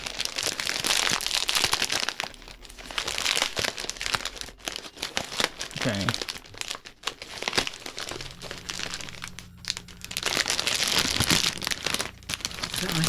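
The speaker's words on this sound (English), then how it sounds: "ASMR rustling" Close, busy crinkling and rustling of packaging or card sleeves handled during a Legend of the Five Rings tabletop game, continuous with short pauses, while a voice briefly speaks partway through.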